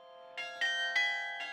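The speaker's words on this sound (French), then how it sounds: "il a longtemps entendu le carillon de la chapelle Notre-Dame de Provence" Carillon bells of the Notre-Dame de Provence chapel in Forcalquier ring four distinct bright, resonant strikes with sustained overlapping tones, heard alone at moderate distance.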